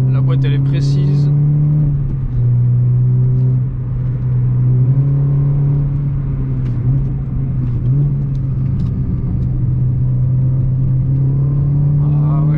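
A sports hatchback engine, either a Renault Clio 3 RS or a Peugeot 208 GTI, drones steadily while driving on the road, a loud, close in-cabin hum that shifts pitch slightly with throttle, running throughout.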